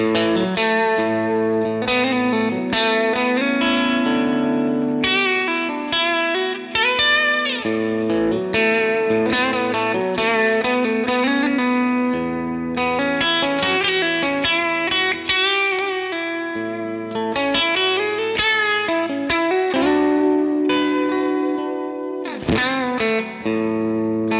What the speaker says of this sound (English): Finally, let's hear the bridge pickup.